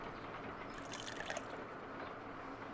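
Water poured during a puzzle in the Sherlock Holmes: Crimes and Punishments video game, a faint, short liquid trickle and splash over low background noise.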